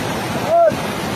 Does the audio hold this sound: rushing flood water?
yes